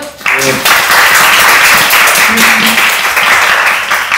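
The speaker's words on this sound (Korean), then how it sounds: "여러분 큰 박수로 맞아주십시오." Audience applause welcoming the chair of a Korean pharmaceutical policy panel discussion, a steady dense clapping that fills the room for about four seconds after a brief spoken lead-in.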